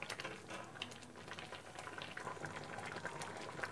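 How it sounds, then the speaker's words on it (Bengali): Moong dal with peas bubbling as it boils in a pressure cooker, a steady close simmering hiss with fine crackling bursts throughout. "এটাকে মেশিনে আরেকটু সিদ্ধ হতে দিতে হবে।"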